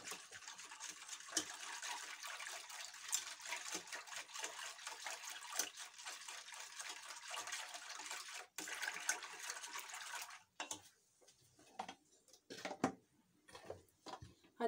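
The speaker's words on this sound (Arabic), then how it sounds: "غادي نزيد الحليب اللي بقى ليا كامل" Milk pours steadily into a pot in a continuous close hiss of liquid for about ten seconds, then stops and gives way to scattered soft splashes and clinks.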